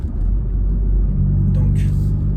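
A Honda Civic Type R FK2 engine in R+ mode, heard from inside the car as a loud, steady low rumble with a brief higher whine near the end.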